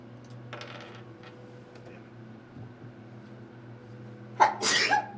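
A single sharp sneeze near the end, loud and close, after a quiet stretch with low room hum and faint background noises.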